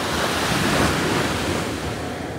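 Stormy sea waves break on Madhavpur beach in a loud, continuous roar of surf, with wind buffeting the microphone.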